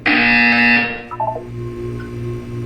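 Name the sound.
buzzer in Portal 2 video game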